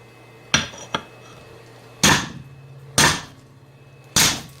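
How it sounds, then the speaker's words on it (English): A hammer strikes a king crab leg claw five times on a hard surface, each blow a sharp, loud crack followed by brief shell crunching, spaced roughly a second apart. "we're going to try to do this with a hammer"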